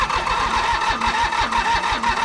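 An old commercial diesel mower engine, long left sitting in a field, cranks steadily with a rapid rhythmic chug while firing unevenly on a single cylinder, loud and close throughout.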